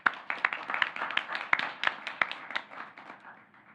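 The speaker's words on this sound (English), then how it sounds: "So a round of applause for Dr. Marshall." Audience applause at a government advisory committee meeting, steady clapping from a room of people that continues for several seconds and gradually thins out, with no talking over it.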